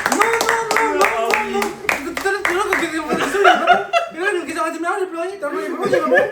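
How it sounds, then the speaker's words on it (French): A small group of men at a dinner party claps for the quiz winner, with loud, uneven hand claps mixed with chuckles and chatter close by. "On peut l'applaudir messieurs."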